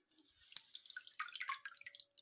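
Fresh coriander that has been soaking in water is lifted out, letting off a quiet scatter of drips and small splashes into the water below, with no talking.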